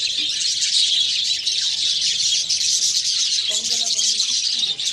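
Budgies squabble over a clay breeding pot with a chick inside, giving dense, continuous shrill chattering and chirping close by, with a voice talking faintly underneath.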